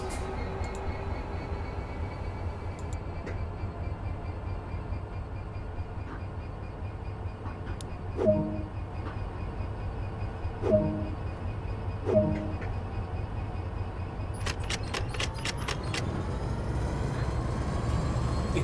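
A train in Train Sim World 2 moving along the line with a steady low engine drone and rumble, a few brief higher tonal squeals or horn-like blips in the middle, and clattering clicks building toward the end.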